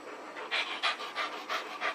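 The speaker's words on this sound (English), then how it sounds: "Look, he's a good dog." Dog panting in quick, steady rhythmic bursts, close and fairly quiet, with no talking.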